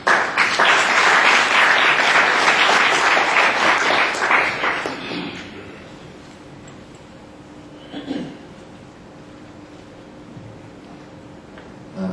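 A conference audience applauds to welcome a keynote speaker at a PMR Africa event, a dense burst of clapping for about five seconds that then fades away to quiet room tone.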